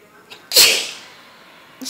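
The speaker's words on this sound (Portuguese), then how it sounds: "eu espirrei" A single sharp sneeze bursts out loud and close from a person making pumpkin baby food in a kitchen, followed by a short fading breath and a faint sound at the end.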